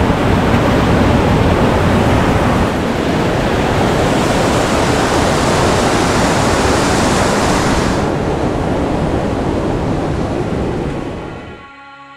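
A powerful river rushes loudly and steadily during a backpacking river crossing, a dense continuous roar of flowing water that cuts off near the end.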